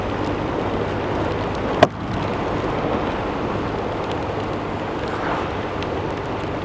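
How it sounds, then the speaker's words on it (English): Wind blows outdoors in a steady, loud rush buffeting the microphone, with a single sharp knock partway through and no speech. "Oh, and the wind's blowing now."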